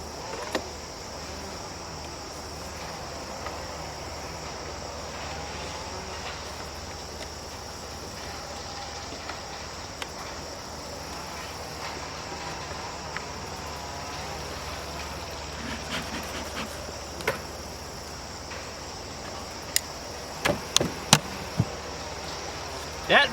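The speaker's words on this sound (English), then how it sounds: "Hive tool." A hive tool scrapes and pries at a beehive during a pre-winter inspection, giving faint clicks and sharp cracks that grow more frequent near the end over a steady bee hum, with someone speaking quietly.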